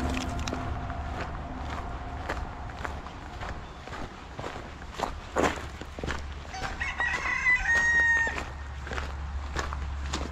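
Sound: chickens and rooster crowing

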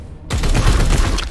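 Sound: gunshot in a video game

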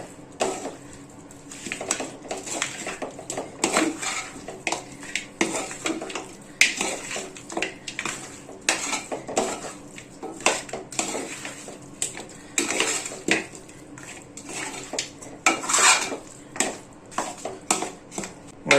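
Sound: stirring mutton roast with coriander leaves in a pan

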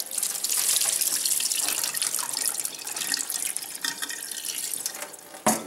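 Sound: water being strained off through sieve

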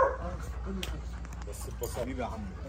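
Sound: guard dog barking during personal protection training

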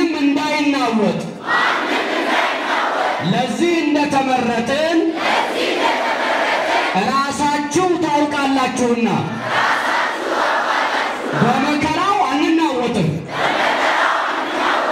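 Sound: church congregation ululating in praise

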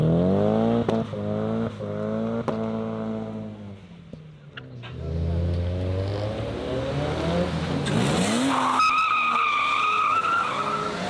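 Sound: car launching with tire squeal

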